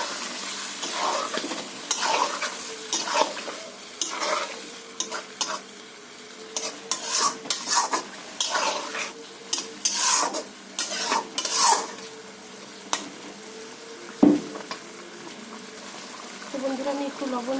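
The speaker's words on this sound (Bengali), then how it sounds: "নাড়িয়ে দিচ্ছি।" Hilsa fish and eggplant curry stirred in a pan, a spoon scraping and clinking against the metal in an uneven rhythm over a steady sizzle, close and fairly loud.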